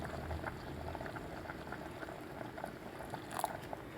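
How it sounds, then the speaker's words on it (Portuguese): Water is poured into a pot of well-cooked rice pudding on the boil, a steady faint bubbling and liquid rush that runs throughout, with no speech. "Como ele já está bem cozido, eu vou colocar mais um pouco de água, talvez mais 1 litro"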